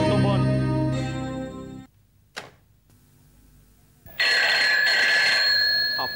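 A telephone in a Marathi TV serial scene rings in a bright, sustained burst after a stretch of music and a brief knock, loud and close for the last two seconds with no talking.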